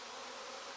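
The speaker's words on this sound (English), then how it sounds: "well, swarming sound, which is unusual" A swarm of bees buzzes high in a tree, a dense, steady hum heard briefly at a distance and fairly faint.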